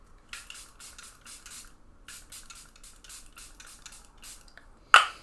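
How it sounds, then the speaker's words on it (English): A Charlotte Tilbury makeup setting spray mists in quick hissing bursts, three pumps, a pause, then about seven more in steady rhythm, close and soft, ending with a sharp click of the cap. "the Charlotte Tilbury setting spray."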